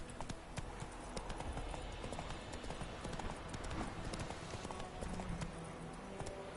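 Horse hooves trotting in The Witcher, making a steady rhythmic clip-clop that runs continuously under a dense bed of game ambience.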